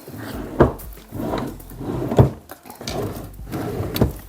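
A small drawer built into the armrest of a wood-look MDF sofa is pulled open and pushed shut, giving three sharp wooden knocks and slides spaced about every 1.5 seconds, close and fairly loud with no talking.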